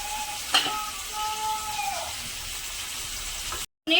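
Tomato and amaranth greens frying in a pan give a steady sizzle with a brief stir clatter near the start; the sound cuts out for a moment just before the end.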